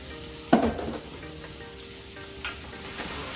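Rice and gandules (pigeon peas) for arroz con gandules hit a hot pot with a sudden loud sizzle that fades over a second, followed by softer stirring scrapes and faint sizzling.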